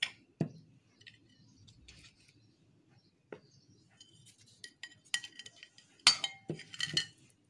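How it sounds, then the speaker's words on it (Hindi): A spoon stirs ground sugar and salt in a bowl for doughnut batter, giving faint, sparse clinks and scrapes that build into a few sharper taps toward the end, close and quiet. "हाफ कप चीनी जो मैंने पीस ली है, इसको हम मिक्स कर देंगे अच्छी तरह से।"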